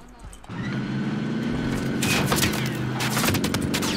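Gunfire in Call of Duty Warzone from an MP5 fitted with a silencer: a steady, dense stretch of shots and explosive game noise running nearly throughout, loud and continuous with bursts clustering toward the end.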